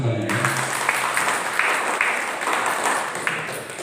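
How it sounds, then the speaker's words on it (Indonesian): An assembly of community association members in Klaten applauds at a general meeting, a continuous crowded patter of clapping, fairly close and even, with a brief voice at the start. "Tepuk tangan dulu semuanya."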